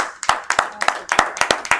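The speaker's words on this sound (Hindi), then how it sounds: "इसके लिए जोरदार तालियां आदरणीय गौतमी जी के लिए।" A small audience at a Hindi poetry gathering gives a handful of sharp, evenly spaced claps, roughly three per second, close and distinct.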